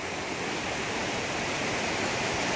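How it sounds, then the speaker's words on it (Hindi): Steady rushing water at Pahalgam, a continuous broadband hiss like a fast stream tumbling over rocks, close and constant throughout with no voices. "पानी की आवाज़ आ रही है सर सर की"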